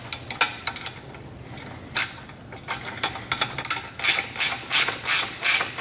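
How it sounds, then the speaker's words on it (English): A ratcheting wrench tightens a bolt on a hydro cart wheel assembly, giving repeated close, loud bursts of ratchet clicks that speed up into a steady rhythm toward the end. "Now I'm cheating and I'm using a ratcheting wrench here for this"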